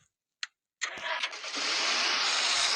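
A car engine cranks after a couple of brief clicks and catches, settling into a steady, fairly close idle.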